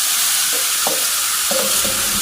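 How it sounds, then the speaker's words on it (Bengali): Fish fries in a pan with a loud, continuous close sizzle and a few brief scraping stir sounds, no voices. "আজকে মাছ ভাজা থেকে স্টার্ট করলাম।"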